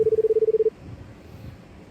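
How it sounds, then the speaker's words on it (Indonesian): Telephone keypad tones: a quick run of about ten short, evenly spaced beeps, clear and close, followed by quiet low background noise. "aku harus telepon Hikmah ya"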